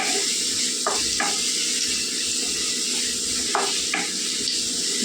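Chili powder frying in a pan for garlic egg curry, stirred with a spoon that scrapes and taps a few times over a steady, close, soft sizzle, with no talking.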